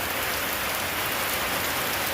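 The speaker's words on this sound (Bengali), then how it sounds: "দারুণ জল হচ্ছে এখন বৃষ্টি হচ্ছে এখন দারুণ" Steady heavy rain pours down outside a house, a dense unbroken hiss of drops on surfaces, close and loud with no voices.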